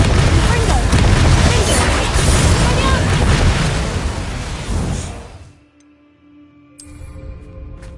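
Spell explosions from Bombarda and Confringo rumble through a Hogwarts Legacy battle, a dense, loud barrage of booms that fades out near the end before softer game sounds return.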